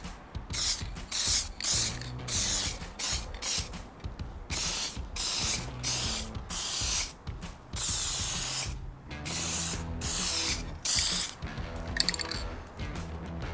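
Spray paint can laying down a very light first coat over primer on a Toyota 4Runner scratch repair, with rhythmic hissing bursts separated by brief pauses and the faint rattle of the can's mixing ball, close and clear.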